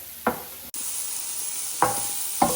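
Onions with garlic powder fry in a pan with a steady close sizzle, broken by a few scraping stirs before and during the hiss.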